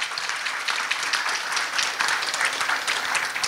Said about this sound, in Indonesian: Boleh tepuk tangan untuk Universitas Pasundan.